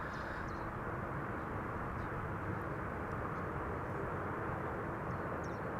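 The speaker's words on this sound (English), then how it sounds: "Singapore Airlines A350 to Singapore just now took off from Polderbaan." Singapore Airlines A350 taking off from the Polderbaan runway at Schiphol, a distant, steady low jet rumble that stays even and continuous, with no distinct events standing out.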